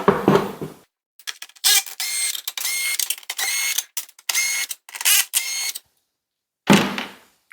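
Wrench loosening the screws that hold the top on a Dewalt track saw, heard as a series of short bursts of metallic clicking and ratcheting separated by pauses, close and fairly loud, with no talking.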